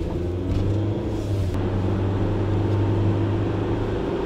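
Car engine hum with a steady low drone as the vehicle pulls away and drives, fairly loud and continuous, no talking.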